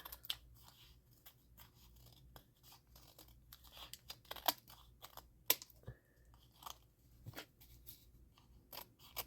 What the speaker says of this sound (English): I'm just going to go ahead and trim away all this excess off of here.